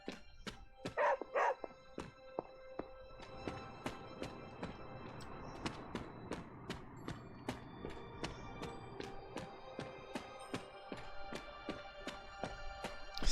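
In the video game Midnight Suns, Charlie the dog yips in a couple of quick bursts early on, followed by regular ticking and clicking over a soft music bed.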